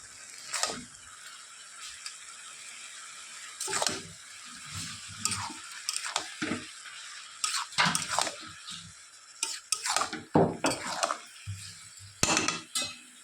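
Ginger paste being stirred into a bottle gourd and shrimp curry in a pan: irregular scraping and clattering strokes of a spoon against the pan, with a faint sizzle between them, close and moderately quiet, no talking.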